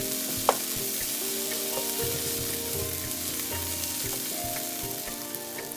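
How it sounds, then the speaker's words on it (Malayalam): Turmeric and chilli powder sautéing in hot oil for prawn biryani, a steady close sizzle with faint occasional scrapes and one sharp clink near the start, no voices. "അപ്പം ആ പൊടികളുടെ പച്ചമണമൊക്കെ മാറുന്നവരെ വഴറ്റി കൊടുക്കുക"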